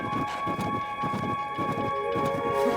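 Horses in the video game Tears of the Kingdom, rhythmic clip-clop of hooves in an even repeating gait, moderately close, over steady sustained game music tones.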